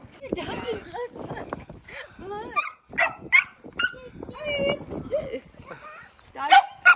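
Husky puppies yipping and barking in short bursts, mixed with nearby voices talking and exclaiming.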